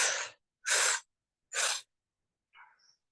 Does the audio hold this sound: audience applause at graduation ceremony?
no